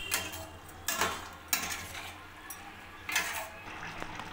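Paneer ghugni being stirred in a kadai, with a few distinct clinks and scrapes of a spoon against the pan spaced irregularly over quiet background, fairly faint and close.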